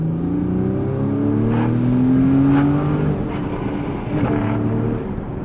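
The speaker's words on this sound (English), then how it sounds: "Sports mode on, sports exhaust turned on." A 2014 Porsche Cayman GTS (981) with sports mode and sports exhaust on accelerates hard, its engine note climbing steadily through several gears with brief dips at the shifts, loud and close with no talking.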